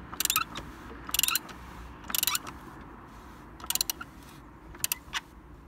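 Socket wrench ratcheting while tightening the oil filter on a BMW E34 540i, five short bursts of rapid, crisp clicks spaced about a second apart over a quiet background hum.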